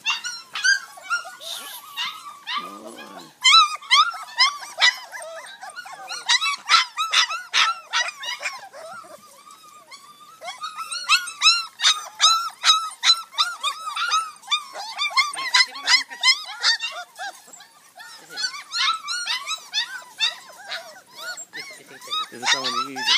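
Several dogs, a female and her puppies, yip, bark and whimper close by in rapid, overlapping bursts, with short pauses between flurries of high-pitched cries.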